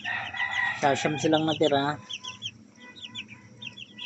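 Young chicks peep in high, thin bursts around a mother hen, whose loud throaty calls come first and then give way to scattered chirping, while a person speaks briefly nearby.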